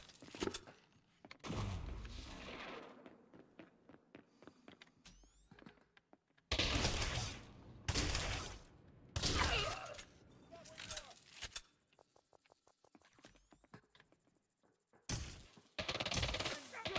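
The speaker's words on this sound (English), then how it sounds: "Grenade." Grenade explosions and bursts of gunfire in a shooter video game, several loud broadband blasts and crackling volleys spread across the clip with quieter stretches and a voice talking between them.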